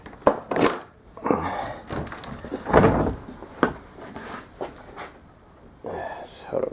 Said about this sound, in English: this wall is actually a door, and you can drop this down and knock this back